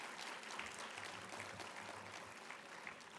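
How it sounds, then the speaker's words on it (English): Audience at an academic keynote address giving a round of applause, steady dense clapping heard from within the hall throughout, fairly quiet and unbroken. "Shall we give another round of applause to Professor, please?"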